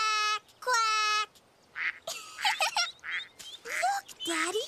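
A cartoon duck quacks in a series of nasal, honking calls, loud and close, separated by short gaps, with other animated voices and bird sounds mixed in.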